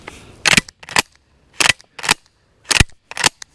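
Metallic clacks come in pairs, sharp and close, as the pump action of an Akkar Churchill 12-gauge shotgun with a 12-inch barrel is racked back and forth several times with short pauses.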